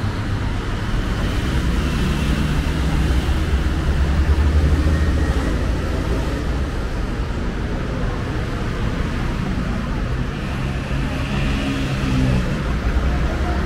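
Busy Cairo street traffic near Tahrir Square roars steadily with a dense wash of engines and road noise, close and loud throughout, with faint tonal honks blending into the din.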